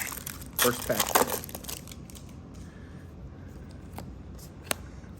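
Yu-Gi-Oh trading card booster pack being torn open, a quick burst of crinkling foil and crackling wrapper noises up close, followed by quieter rustling and a sharp click.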